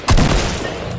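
A single loud shotgun blast in the video game Fortnite, a sharp boom with a long rumbling tail that fades out.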